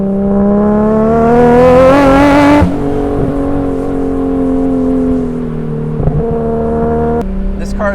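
A 500-horsepower Nissan 240SX with a swapped GT-R engine roars past up close, its pitch rising as it accelerates hard, then dropping into a lower drone as it pulls away.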